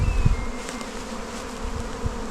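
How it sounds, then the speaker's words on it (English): Honeybees hum continuously around an inspected hive colony, a close, even drone with a few brief louder passes of individual bees and no talking. "Bees over here."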